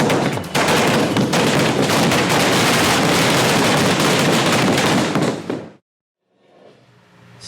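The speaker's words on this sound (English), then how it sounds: "there are smaller, more intimate fireworks displays" Dense, continuous crackling bangs from a fireworks display, loud and close for about five seconds, then cutting out abruptly to near silence before faint rumbling returns.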